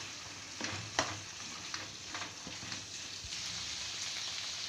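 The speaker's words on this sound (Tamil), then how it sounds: "இப்போது மசாலா சிக்கன் எல்லாம் சேர்ந்து நல்லா மிக்ஸ் ஆகட்டும்." Dragon chicken is stirred with masala in a pan, giving a soft, low sizzle with light scraping strokes of the spatula at an even pace.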